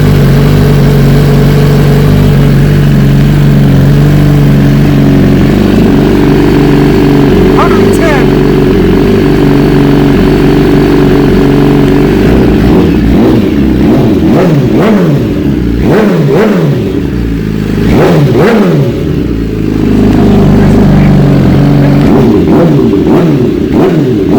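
A 2018 BMW S1000RR motorcycle engine idles, then is revved repeatedly in short bursts, loud and close, with the pitch rising and falling each time.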